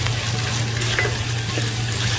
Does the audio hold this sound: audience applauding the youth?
no